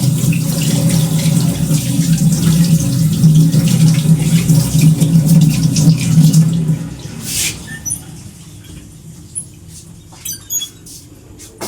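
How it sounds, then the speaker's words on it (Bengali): Tap water runs steadily and close by while hands are washed at a home kitchen sink, then stops, leaving a few light clicks and knocks. "না হাতটা ধুই।"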